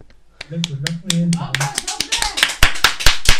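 Applause after a sung performance: a burst of hand claps, sharp and close, starting after a brief sung phrase and building into steady, dense clapping with a few louder single claps near the end.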